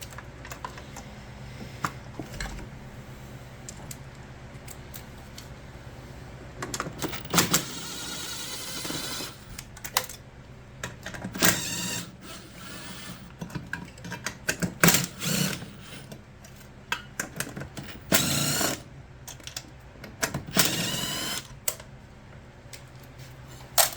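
A socket wrench ratchets in repeated bursts of rapid clicking, close and fairly quiet, while bolts are loosened during the teardown of a Turbochef i3 oven.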